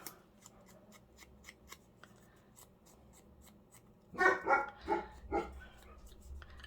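A dog barks four times in quick succession nearby, following soft rhythmic scratching sounds like snipping or rubbing.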